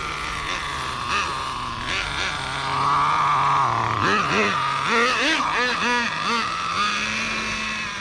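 The nitro engine of an HPI RS4 RC drift car idles with a high, buzzy rattle, then gets a few short rising blips of throttle before settling back. A voice is present close by.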